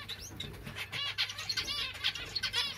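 A pair of zebra finches, a cheek-patched male and a black-cheeked pied female, chirp rapidly in short, bright, nasal calls that repeat throughout, close by with a steady low hum underneath.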